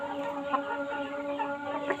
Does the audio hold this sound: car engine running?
no